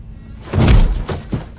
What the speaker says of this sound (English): I didn't mean to kick the door open.